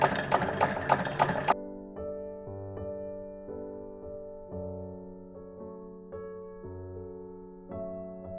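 A sewing machine runs briefly with fast rhythmic stitching while cape fabric pieces are sewn together, then gives way to steady tonal music.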